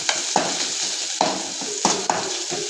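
Moringa leaves being stirred in a pan for rasam, a spoon scraping and tossing them in a series of irregular clinks and scrapes over a soft sizzle, close and alone.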